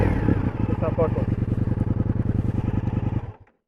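An Indian FTR 1200 S motorcycle engine rumbles nearby with a rapid, even pulsing beat that holds steady and then cuts off abruptly near the end, while a person talks over it.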